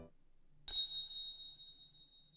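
A small bell from the game Never 7 drops to the ground after a quiet pause, giving one bright metallic strike that rings on and slowly fades.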